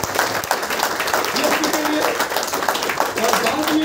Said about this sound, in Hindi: तो जोरदार तालियां जरा